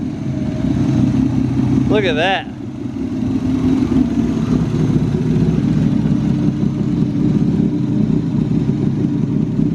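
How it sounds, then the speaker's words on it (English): A BMW E36 with an M52B25 engine runs smoothly, giving a steady low rumble throughout, with someone briefly speaking over it near the start. "that's the noise you can hear and that's the car running beautifully"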